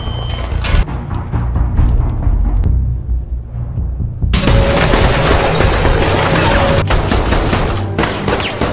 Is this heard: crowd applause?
no